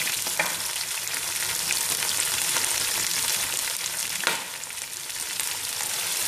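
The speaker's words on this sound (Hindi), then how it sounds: "इसको भी हम फ्राई करेंगे।" Chicken frying in a pan, three quarters of a kilo of pieces browning for a chicken achari chana dal, giving a steady, dense sizzle throughout with a few sharper crackles and one stir around the middle, no talking.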